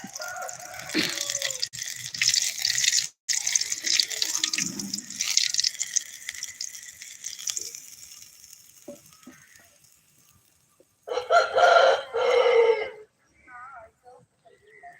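Chicken 65 pieces deep frying in hot oil give a steady broadband sizzle for about eight seconds that then fades. A short burst of voices follows near the end.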